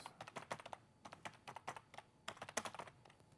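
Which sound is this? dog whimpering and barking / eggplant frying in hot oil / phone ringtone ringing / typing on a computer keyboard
typing on a computer keyboard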